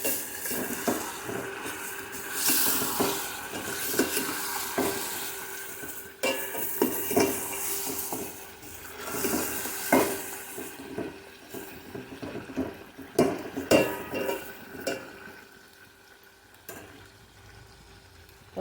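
Chicken pieces coated in fresh ginger garlic paste frying in a pot for a function-style gravy curry, with a steady sizzle under repeated scraping and clinking stir strokes of a spoon against the metal, close and moderately loud, no talking.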